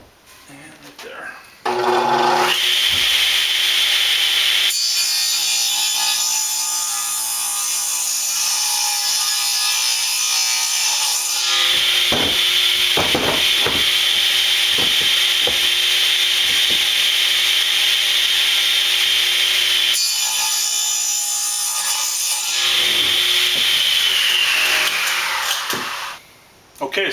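A power saw cutting wood for a trailer rebuild, loud and close, running in long continuous passes that drop out briefly between cuts, with someone talking at times.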